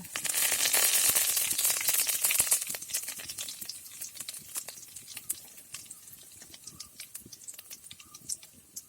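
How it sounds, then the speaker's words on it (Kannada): Curry leaves frying in oil in a pan, a loud crackling sizzle that bursts up at first and then settles into a fainter, scattered spitting and popping. "ಫ್ರೈ ಆಗಿದ್ದು ಕರಿಬೇವು ಸೊಪ್ಪು ಹಾಕ್ತಿದ್ದೀನಿ."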